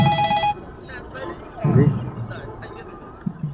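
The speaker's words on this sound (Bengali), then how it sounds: "দাদা ফোন আইছে ফোনটা ধরে নই" A mobile phone's electronic ringtone sounds as a steady tone for about half a second, then cuts off. Voices follow it, close and conversational.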